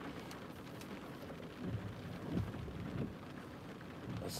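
Steady rain falls outdoors near a parked car with the windshield wipers running, a soft, constant hiss with a few low rumbles and no talk.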